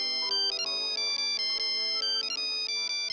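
A mobile phone ringtone plays a bright, repeating electronic melody. The pattern of tones recurs steadily and clearly throughout, with no talk over it.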